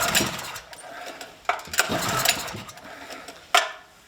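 Cheap Chinese small petrol engine being started: repeated short pull-start rasps and sputters that fail to catch, each burst quick and close, separated by brief pauses.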